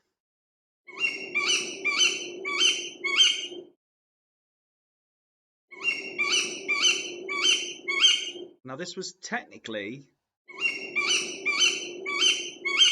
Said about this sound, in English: It was a tawny owl, actually.